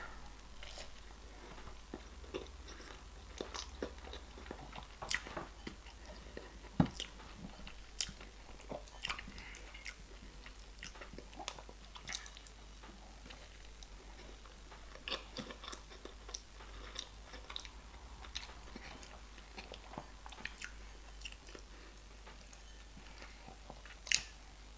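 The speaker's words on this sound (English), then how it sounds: "You chew yam. You don't just swallow yam" Someone chewing boiled yam at close range, with soft wet bites and occasional crisp crunches repeating irregularly over a quiet background and no talking.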